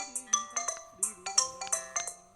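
A phone rings for an incoming call, a bright repeating electronic ringtone melody of quick chiming notes that plays on without pause, close and clear.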